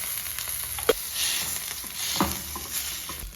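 Tomatoes with garlic and ginger sizzle steadily in a pan, with a few spoon scrapes and stirring knocks rising over the soft, continuous frying.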